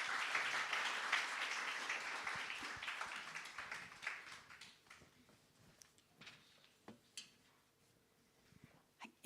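Church audience applause welcoming a guest, a broad wash of clapping that starts moderately loud and steadily thins out, leaving scattered individual claps at the end.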